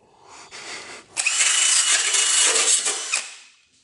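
A power wire brush works over metal on a Ford Falcon XF, a soft start then a loud, sustained abrasive whirring scrape that fades out at the end.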